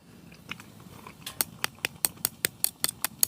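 Crunchy-topped dumplings cooked in a camping oven inside a hot tent are eaten close up, with quiet early bites and then a steady run of sharp, crisp crunches about every fifth of a second.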